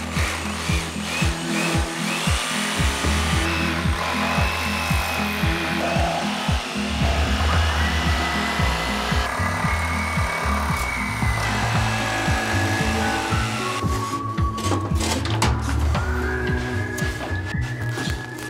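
A power tool cuts a square opening through cargo trailer paneling to fit an air conditioner, a loud continuous whirring and rasping that runs steadily throughout with slight shifts in pitch and no talk.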